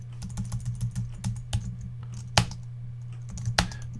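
Typing on a computer keyboard, a quick run of close key taps that slows into a few sharper, louder strokes, with no voices.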